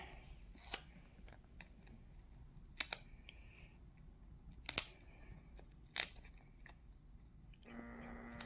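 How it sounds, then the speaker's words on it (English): Scissors cut paper while a theatre journal is made from programs and CD covers. A few sharp, separate snips stand out close and crisp against a quiet room, with small handling rustles between them. "I'm just going to cut this down just a little bit"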